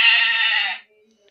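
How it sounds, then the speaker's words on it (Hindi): A single bleat from a Smart Star Talking Ted learning toy, meant as a goat, sounds close and clear for under a second, then fades into near silence. "बकरी ऐसे आवाज निकालती है।"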